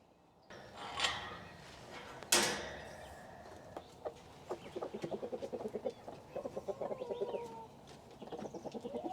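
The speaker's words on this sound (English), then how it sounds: "first I got to let the chickens out" Chickens cluck in a steady, rhythmic stream of short notes, with a few louder squawks near the start, nearby and alone without talk.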